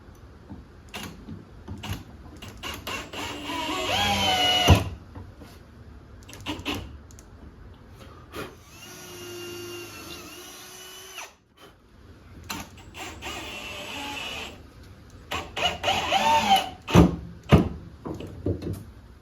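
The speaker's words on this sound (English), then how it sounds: "we're just going to go ahead and mount one screw into that" A power drill or driver runs in several bursts as it drives a screw into a homemade Kydex press. The whirring stops and starts with pauses between, and there is some clattering of handled parts.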